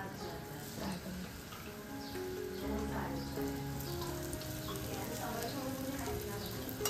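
A large stuffed pomfret fries in oil in a pan on a home stove, giving a steady, close sizzle and crackle that runs continuously with no one talking.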